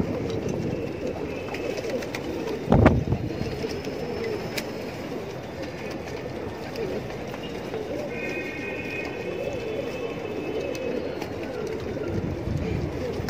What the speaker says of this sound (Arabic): بص يا رجاله الحمام